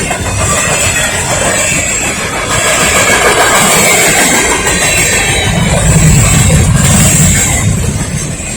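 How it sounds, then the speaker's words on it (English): A westbound Norfolk Southern mixed freight train rolls steadily past at close range in Forest, Virginia, its cars giving a continuous loud rumble, rail clatter and metallic squeal. "Train cars!"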